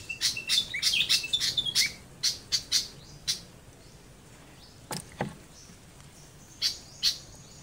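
Bird chicks in a nest give high, thin chirps in quick bursts, then fade to a few scattered peeps with quiet gaps between them, close by.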